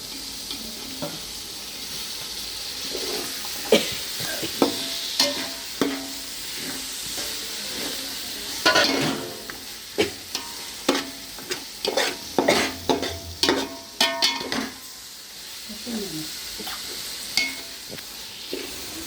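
Tomatoes with turmeric sizzle in a pan for biryani, with a continuous frying hiss broken by repeated scraping and clanking stirs of a spoon, close and fairly loud, no talking.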